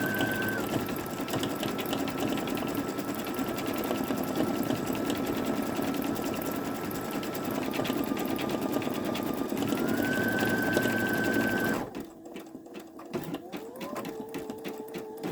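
A Babylock Esante embroidery machine stitches flowers onto a towel with a steady, close, rapid mechanical whirr and a whining motor tone, then stops abruptly and leaves faint clicks and small motor noises.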